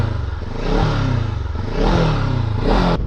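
A Macbor XR5 510 motorcycle engine revs up in three rising bursts, close and loud, each throttle blip swelling then easing back toward idle.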